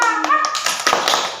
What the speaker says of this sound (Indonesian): tepuk tangan dulu. Tepuk semangat dulu, tepuk semangat.